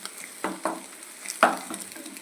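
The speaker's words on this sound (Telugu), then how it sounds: "ఇప్పుడు ఇది బాగా ఫ్రై అవ్వాలి" Food frying in a pan with a pinch of turmeric, a soft steady sizzle broken by a few sharp scraping stirs of a spoon, close and fairly quiet, with no talking.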